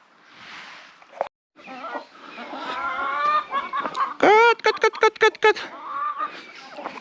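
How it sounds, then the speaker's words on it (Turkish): Hens cluck in a quick run of short, sharp bursts midway through, in a village in Sinop, Turkey, with a voice talking over much of it, close by. "Bayılıyorum bu tavuklara."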